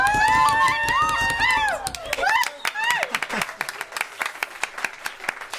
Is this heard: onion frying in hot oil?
no